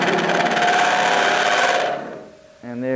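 A lathe spinning at a little over 1,000 RPM whines loudly with a tool cutting, a dense steady buzz that cuts off near the end before a brief tonal burst.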